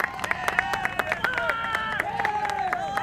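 Spectators at an ultimate frisbee Open Masters final, Black Hands Highlands against Tejas, clap and cheer in a steady rhythmic run of sharp claps over a crowd chant, with tonal voices and a faint background commentator.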